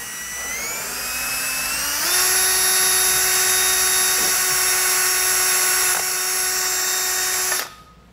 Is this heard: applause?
no